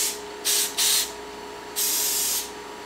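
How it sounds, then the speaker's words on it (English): Three short bursts of hairspray from an aerosol can, a hissing spray about half a second each, the last one longer, close and clear against quiet background hum. "Spray hairspray, don't use it."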